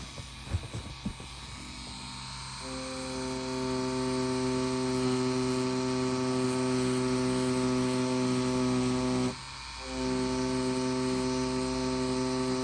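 A wireless rotary tattoo machine runs with a steady electric buzz and strong humming tones, starting after a few handling clicks and continuing loudly, briefly dropping out and resuming near the end.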